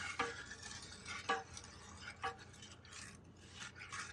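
A wooden spoon stirs crème anglaise custard sauce in a pan, faint rhythmic scraping and rubbing strokes recurring roughly every second, quiet and close with no voices.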